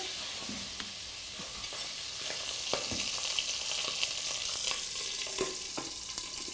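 Whole sausages fry in hot oil under a lid, giving a steady, close sizzle with light pops and crackles throughout and no voices.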